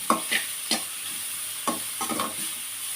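Grated carrot frying in ghee for carrot burfi is stirred in several distinct scraping strokes, uneven in rhythm, over a faint, steady sizzle close by.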